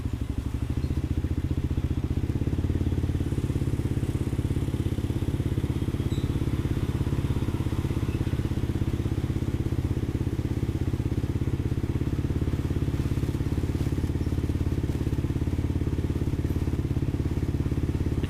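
A motorcycle engine is held at a steady speed of about 2000 rpm, giving a continuous, even, close-up drone with no rise or fall for the whole stretch. No one speaks.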